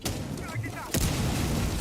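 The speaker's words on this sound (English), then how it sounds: "Secondary breach charges goes down and more explosions all around" Breach charges and other explosions go off in a professional Rainbow Six Siege match. A muffled burst gives way to one loud, sharp boom, with a commentator talking over the action.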